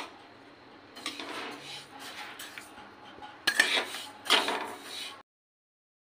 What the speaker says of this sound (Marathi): तडतड असा त्याचा आवाज येतो.